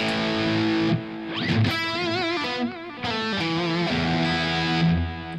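An electric guitar plays with heavy gain distortion: sustained, gritty notes and chords with bends and vibrato, loud and up close.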